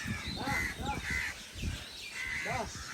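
Myna birds in a Tamil village setting with coconut trees, calling outdoors in a few harsh, caw-like repeated notes at moderate distance over faint background noise.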